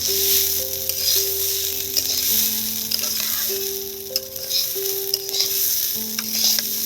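Spices and long-grain rice frying in ghee for basanti pulao, a steady sizzle with a spoon stirring through the pan, close and continuous, under soft background music without talk.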